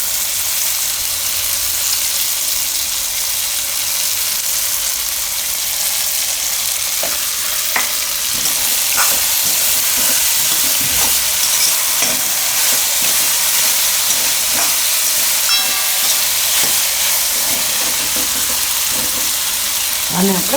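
Paapdi muthiya, a Gujarati flat bean and dumpling dish, cooking in oil in a pan, a loud continuous hissing sizzle with occasional stirring clinks, a voice heard faintly in the background.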